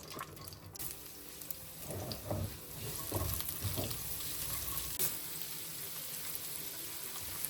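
Onions dropped into a small spoonful of oil in the same pan used for frying chicken, a soft, fairly quiet sizzle with a few stirring scrapes and bumps early on, then a steady low hiss, no talking.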